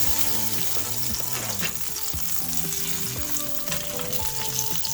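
Beef searing in a pan for jambalaya, a loud, dense continuous sizzle and crackle of frying meat, close up and steady throughout, with no talking.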